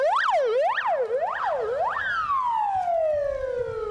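An evacuation alarm siren sounds loudly at a Kazan courthouse during a court bailiffs' drill, with four quick rising-and-falling wails followed by one long tone that slowly drops in pitch.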